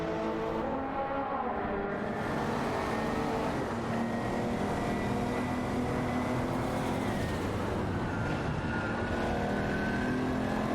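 Race cars in a video game race roar together in a continuous layered drone of engines, pitches rising and shifting as cars accelerate and pass, loud and unbroken throughout.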